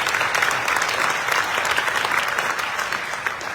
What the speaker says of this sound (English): Buckeye Girls Band, Buckeye Boys Band, give yourself a round of applause.